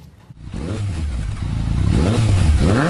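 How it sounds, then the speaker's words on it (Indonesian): Motor vehicle engine revving hard in a residential neighborhood, a steady rising roar with harmonic pitch sweeping up and down through repeated throttle blips, loud and close with no talking. "masih budak ini ngegas-ngegas ya"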